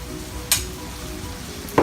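Shrimp and other ingredients sauté in a pan with a steady, low sizzle, punctuated by two sharp clinks of a utensil against the pan, close and without voices.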